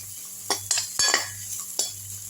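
Grated coconut sautéed lightly in a pan, a spoon stirring with several sharp scrapes and clinks against the pan over a low background hum, close and alone.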